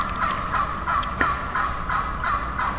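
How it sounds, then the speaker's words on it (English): Wild turkeys gobble repeatedly in the distance in the evening, heard from a hunting stand, rolling calls answering one another over steady outdoor ambience. "As you can hear, I got turkeys going nuts right now"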